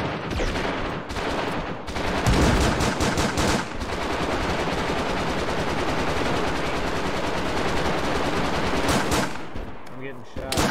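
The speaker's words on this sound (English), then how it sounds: "I'm getting shot." Sustained bursts of rapid automatic gunfire in the DayZ video game, loud and dense for most of the stretch with brief gaps, ending in a few scattered shots and faint player voices.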